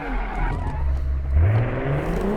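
An APOLO S36, a Porsche 911-inspired Group B rally car, drifts in a video game. The loud engine growls and rises in pitch with revving, and tyre scrub and squeal are layered over it, close and continuous.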